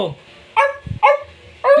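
A voice imitates a dog, giving three short yappy barks in an even rhythm, close and loud.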